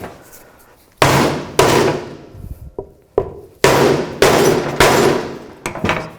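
A hammer drives a new timing cover seal in through a wood block, giving about eight sharp, loud knocks spaced irregularly, each ringing briefly before fading, with no talk.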